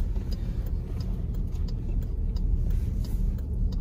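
A Jeep Grand Cherokee Limited X engine runs with a steady, full low rumble, heard close and loud throughout without clear rev peaks and with no talk over it.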